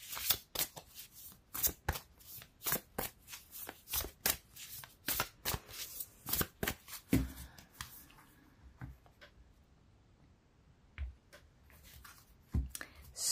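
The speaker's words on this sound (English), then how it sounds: "shuffling cards is like a ritual" An oracle card deck being shuffled by hand, with rapid riffling bursts in an uneven rhythm for about seven seconds, a quieter pause, then a few final taps and slides, close and soft, with no voice.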